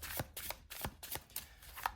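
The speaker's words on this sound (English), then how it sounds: "So I've swirled and shuffled and swirled and shuffled." A tarot deck is shuffled close up in a quiet room, with about eight crisp riffling bursts spaced at a quick, irregular rhythm and no voices.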